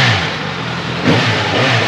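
A Suzuki GSX S1000 GT motorcycle engine revs loudly and close by during a test ride, its roar swelling into a sharper rev midway through.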